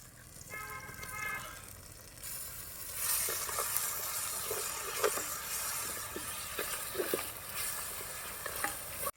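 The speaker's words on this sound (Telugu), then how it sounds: "మెత్తగా దంచుకున్న అల్లం వెల్లుల్లి పేస్ట్ కూడా కొద్దిగా వేసుకుందాం" Ginger garlic paste hits a hot pan of tomato pieces for a prawn curry, a sudden loud sizzle that keeps crackling and spitting under repeated stirring scrapes, with no voices.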